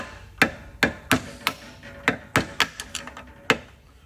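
A hammer beats a sheet metal part off a VZ-61 upper: about ten sharp, ringing metallic strikes at an uneven pace, close and fairly loud, with no voices.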